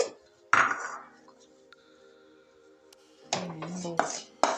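Spoon scraping and clinking against a pan and bowl as dry peanut chutney is moved out of the pan, a sharp knock at the start and a busier burst of scraping toward the end, with near-silence between.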